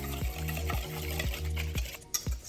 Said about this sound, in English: And we are going to just whisk.